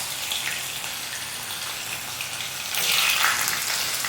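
Pieces of paneer shallow-fry in hot oil over a low flame, giving a steady close sizzling hiss that swells louder partway through as more pieces go in.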